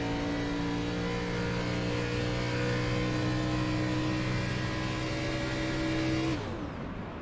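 A kart engine at Pocono is shut down then fired back to life, revving steadily and loud down the straight for about six seconds before cutting off abruptly, leaving a fading whir.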